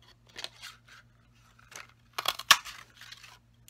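Scissors snip through paper while cutting out leaf shapes for a chrysanthemum card, a series of short crisp cuts of varying loudness, the strongest pair near the end, with no talking.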